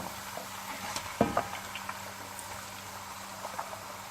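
Boneless chicken sautéing in a pot for a chicken handi, a soft steady sizzle with a few brief stirring scrapes and clinks near the start, moderately quiet and close, no talking.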